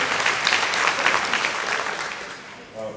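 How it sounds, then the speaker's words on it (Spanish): Applause from an audience at a basketball clinic in Tijuana, a dense, loud burst of clapping that holds steady before tapering off slightly toward the end. "I want to give them a big round of applause for allowing this to happen today."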